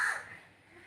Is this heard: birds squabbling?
yes